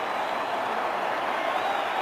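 Stadium crowd roaring at a Broncos football game, a dense, steady wall of cheering voices at even loudness throughout.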